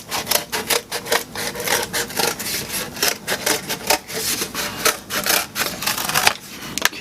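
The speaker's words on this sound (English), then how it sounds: "let's get the scissors and cut that out." Scissors cut through sculpting material to free a small set of dinosaur legs, making a steady run of close, rasping snips and rubbing scrapes for several seconds with no talking.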